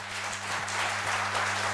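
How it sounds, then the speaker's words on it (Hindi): Audience at a financial education summit gathering clapping loudly on cue, a dense continuous wash of applause with no talk. "इसके लिए एक बार ज़ोरदार तालियां हो जाए"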